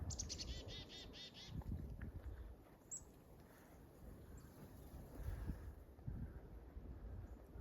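Birds chirp faintly in short, scattered calls over soft outdoor wind and rustling, with a quick tweet or two standing out.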